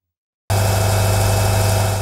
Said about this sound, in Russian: Двигатель теплохода работает на средних оборотах.